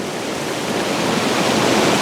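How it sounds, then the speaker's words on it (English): Small waterfall streams pour in from a field and upstream, a steady broadband rushing of water that stays close and even, growing slightly louder throughout with no voices. "The falls coming in there from the field"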